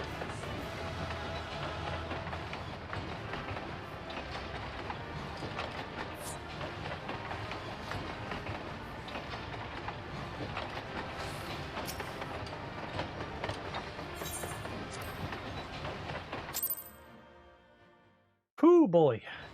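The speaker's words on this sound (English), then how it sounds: "The ghost train." Ghost train in the Final Fantasy video game, a continuous rumbling clatter of rolling rail cars that runs steadily, then cuts off abruptly near the end, followed by a short burst of other game sound.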